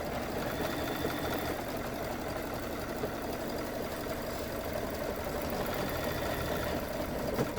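A sewing machine stitches out a fabric Halloween party hat, its steady mechanical whir running unbroken and fairly quiet at close range, with no voices.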